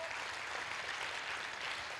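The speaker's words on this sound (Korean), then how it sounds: "다시 한번 큰 박수 부탁드립니다" Hands clap steadily from an audience at a school's tenth-anniversary festival, a continuous even patter of applause at moderate volume with no voices over it.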